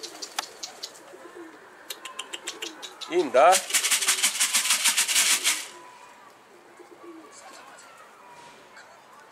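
Pigeons coo in a rooftop loft area, with soft repeated coos and a burst of wing flaps midway, while people talk nearby.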